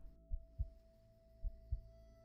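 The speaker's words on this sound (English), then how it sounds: "Ooh, I can hear the heartbeat." A heartbeat sound effect in the Road to Empress video game: two pairs of low, deep thumps over a steady electronic hum, with a pause between the pairs.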